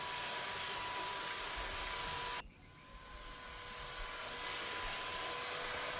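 A belt sander works the top surfaces of routed letters on a wooden sign, giving a steady whirring drone that cuts off abruptly partway through, then slowly rises again to a continuous whir.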